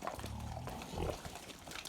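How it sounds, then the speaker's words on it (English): Pedigree Welsh sows grunting inside a pig house, a run of close, low, rough grunts and snorts repeating irregularly. "So we've got two Eleonora sows in here."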